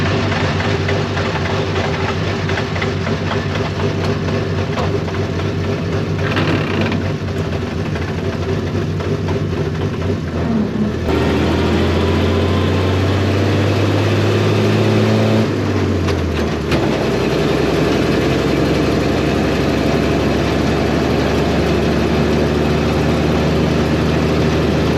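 An old fire truck engine rumbles loudly as the vehicle is driven around the block, its heavy drone swelling and shifting with gear and speed changes over a steady, continuous run.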